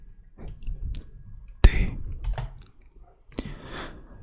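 A Linux command is typed on a computer keyboard in a quiet, whispered setting, giving a few sparse, close keystroke clicks with a sharper tap in the middle and soft breathy sounds between them.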